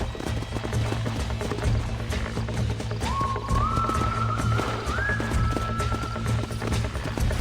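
Horse hooves clip-clop in the Western video game Red Dead Redemption, a steady rhythmic trot under a low musical drone, with a rising tone sliding in partway through.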